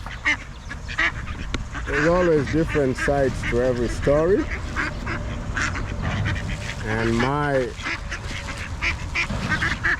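Ducks being fed bread in New Zealand give bursts of loud, close quacking and honking, several calls in quick succession, while a person talks over them.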